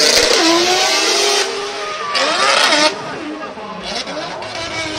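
An FD3S drift car screams through hard revs and throttle blips at a Formula Drift Japan qualifying run at Ebisu, loud and close, with the pitch swooping up and down while a commentator talks over it.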